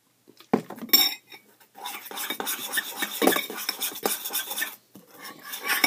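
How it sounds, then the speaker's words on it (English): A utensil stirs pink slime in a bowl, producing close, scraping, squelchy rubbing and clinking against the bowl in uneven bursts with short pauses, fairly loud, and no talking. "Very loud because of the stirring that I'm doing."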